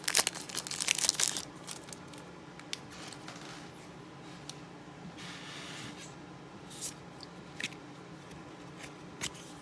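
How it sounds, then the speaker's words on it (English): Cellophane wrapper on Throne of Eldraine Magic booster packs crinkles and tears in a loud, busy burst at the start, then settles into sparse, faint crackles and rustles over a quiet room. "Man, this cellophane's ridiculous on these."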